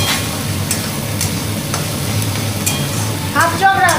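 Spice paste for a Bengali lote fish tel jhal sizzles and pops steadily in hot oil while being stirred, a close continuous frying hiss with faint scraping and a brief clatter near the end.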